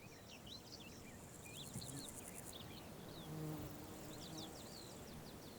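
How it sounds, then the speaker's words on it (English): Honeybees foraging on blackberry blossom make a faint, continuous buzzing hum of several insects nearby, with soft bird chirps scattered in the background of an outdoor setting. "Sometimes honeybees even compete with each other."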